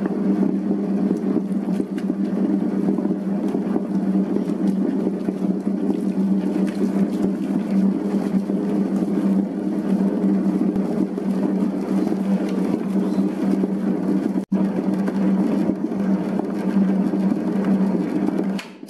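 A dough mixer kneads bread dough for soft bluder rolls, giving a steady, loud mechanical drone with a low hum that runs unbroken through the whole stretch, with no voices.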